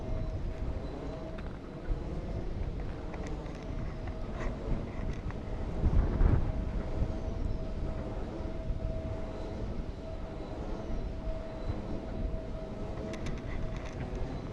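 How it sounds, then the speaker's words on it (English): Strong gusting wind buffets the microphone on a mountain bike ride at Wilson, a continuous low roaring rumble with a faint steady whine over it, swelling briefly midway and never letting up. "today is very, very windy"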